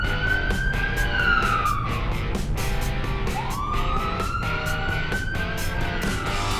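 An ambulance siren sweeps slowly up and down in pitch, loud and continuous, over a steady rhythmic thumping backdrop.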